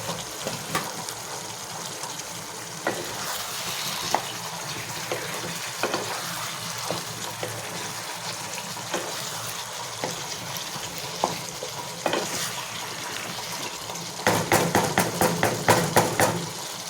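Mutton for a thin Bengali curry with potol and potato fries in a pan, making a steady sizzle broken by scraping stirs. Near the end come quicker, sharper clattering strokes.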